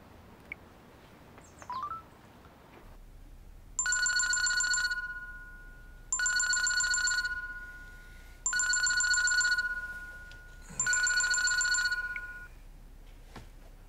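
A phone call placed at five in the morning in a Korean drama: a few quick keypad tones, then four evenly spaced ringing bursts, each a warbling electronic trill that fades out, with no voices.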